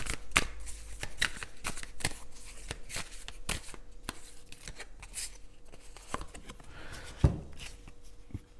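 Tarot cards shuffled and drawn for a reading, giving a run of soft papery riffles and flicks with a few sharper snaps, close and fairly quiet, with no talk over them.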